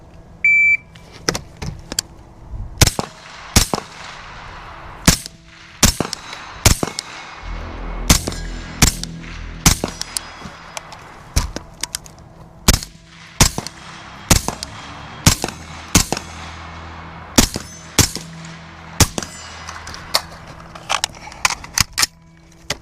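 A Centurion Arms 11.5-inch FBI-pattern AR-15 rifle firing about two dozen sharp, loud shots in irregular singles and quick pairs, with short pauses between strings.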